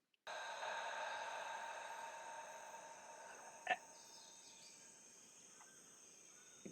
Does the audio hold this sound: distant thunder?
no